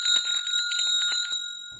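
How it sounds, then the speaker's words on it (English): A small hand bell rung in a house to summon a servant gives a bright, sustained metallic ring with shimmering overtones, steady and clear, with no voices over it. "He rang the bell"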